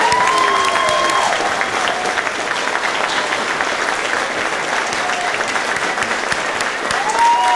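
Warm audience applause fills a hall at a cultural gala awards ceremony, dense sustained clapping from a large crowd throughout, with no break.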